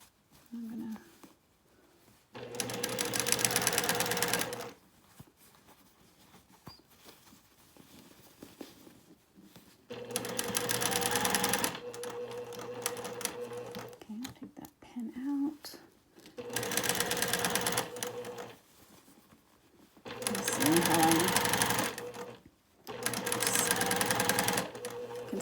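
Sewing machine stitching quilt fabric along a quarter-inch seam for a record-style quilt block, running in four sustained bursts separated by pauses, close and steady, with someone speaking softly between runs.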